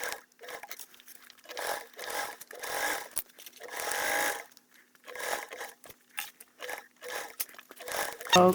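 A sewing machine bastes a narrow 1/8 inch seam in repeated short bursts of rapid stitching, separated by quiet pauses, close and moderately loud.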